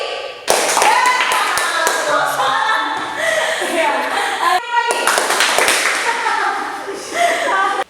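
A classroom group plays a tepuk rhythmic clapping game in a university lesson, a few crisp claps and taps sounding in sequence, with a leader's voice speaking over and between them.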